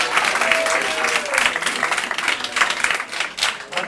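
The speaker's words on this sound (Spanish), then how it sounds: "un aplauso a Luis" A live audience at a PechaKucha event breaks into applause, a continuous wash of many hands clapping at fairly close range, steady throughout with no break.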